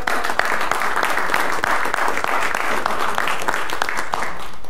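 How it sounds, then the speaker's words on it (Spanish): A church congregation claps for a newly married couple, loud and dense, sustained evenly with sharp individual claps standing out. "Vamos a darle un aplauso."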